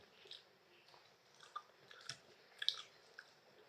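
Someone chews fresh raw oysters with onion and ginger close to the mic, soft wet squishes and light crunchy bites in an irregular rhythm, faint and alone.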